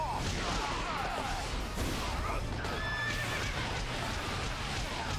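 A horse in the video game Fire Emblem Warriors whinnies over continuous clip-clopping hooves, with battle noise in the background.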